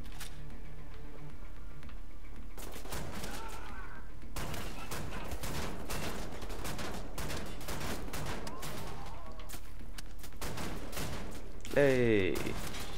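Shotgun fire in the video game Wolfenstein: The New Order, repeated sharp gunshot bursts spread across the clip among game combat noise, with a player talking over it.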